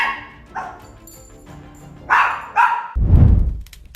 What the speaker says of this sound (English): found the dog to be endlessly barking while looking at a single point of the house